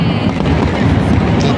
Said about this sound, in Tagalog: So yan yung fireworks na nakikita nyo, napakaliwanag sa labas